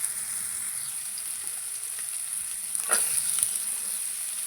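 Capsicum, carrot and beans with tomato sauté in hot oil in a pan, giving a steady, even hiss with a faint crackle swelling briefly near the end, close up and with no voices.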